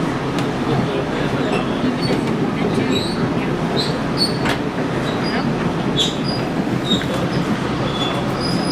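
A Reading, Blue Mountain and Northern Railroad train rumbles steadily along the rails, with occasional thin metallic squeals from the wheels.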